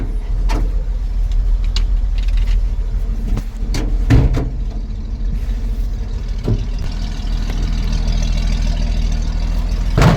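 An old Chevy dump truck engine, running after sitting 15 years, gives a deep, steady rumble punctuated by occasional knocks and clatters, close and loud.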